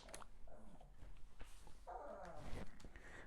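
A pet dog makes soft whiny, cat-like whimpering and mewling sounds indoors, a few brief quiet cries near the microphone with a low rumbling undertone.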